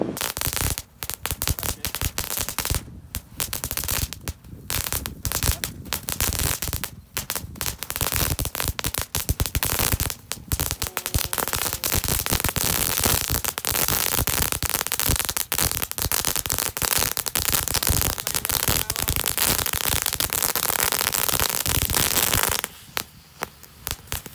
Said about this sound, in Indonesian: Mercon tank 2 kardus